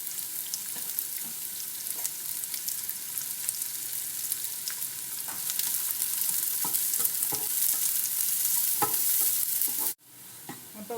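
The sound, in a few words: chopped small onions frying in oil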